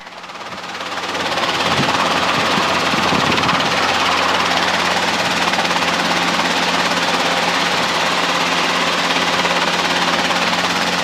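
A Robinson R22 helicopter hovering near Mauna Loa, its engine and rotor roaring loud and steady from close inside the cabin after building up over the first two seconds.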